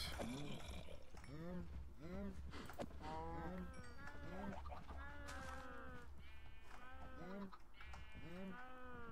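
Minecraft sheep bleat repeatedly in short, wavering cries, several overlapping calls close together, with someone talking softly between them.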